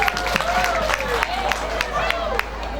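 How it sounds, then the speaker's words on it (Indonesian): A church congregation at a Christmas service claps together: a short burst of scattered applause and crowd noise, with a voice talking over it and a low hum beneath. "Beri tepuk tangan"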